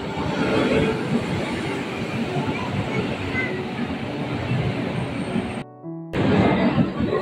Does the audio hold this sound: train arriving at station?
yes